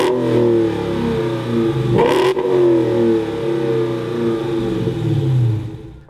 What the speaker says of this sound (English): And this exhaust sounds fantastic.